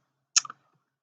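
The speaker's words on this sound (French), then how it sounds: "avec les flèches que vous avez sur le clavier, vous allez pouvoir faire descendre votre ligne" A few quick, faint clicks of keys pressed on a computer keyboard, bunched in one short burst, used to nudge a line down in Bernina V9 embroidery software; nothing else sounds.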